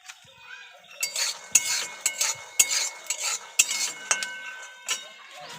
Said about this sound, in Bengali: এদিকে বাদাম ভেজে নিচ্ছি কড়াইতে